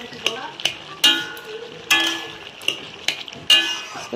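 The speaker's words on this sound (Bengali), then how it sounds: "এখন ভালো করে নাড়াচাড়া করব।" Bottle gourd curry stirred in a pan, a spatula scraping and tapping the metal in an uneven rhythm of about eight strokes over a soft sizzle, close and clear.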